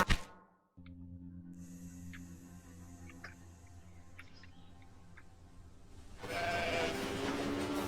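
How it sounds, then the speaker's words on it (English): Sheep bleating in the railway-building strategy game Railway Empire, a few short distant calls scattered over a steady low rail-like hum, with a rushing noise swelling near the end; no talking. "I hear sheep."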